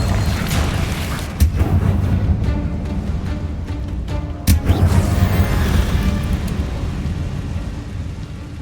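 A Confringo blasting spell cast in Hogwarts Legacy: dense rumbling, crackling explosive bursts run throughout, with sharp louder blasts near 1.4 and 4.5 seconds over a continuous roar.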